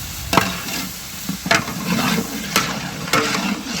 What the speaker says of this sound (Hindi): टमाटर में मैश कर रही हूँ, इसकी आपको और चम्मच की आवाज़ आ रही होगी